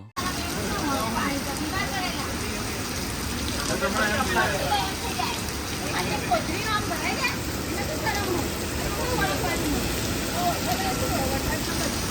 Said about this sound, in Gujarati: જમતા જમતા વરસાદ આવવાનું ચાલુ થઈ ગયું